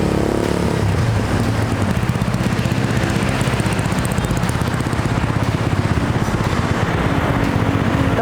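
A Yamaha Mio Sporty scooter motorcycle engine running while being ridden, a loud steady buzzing drone with rapid even pulsing, close and continuous throughout, with wind noise.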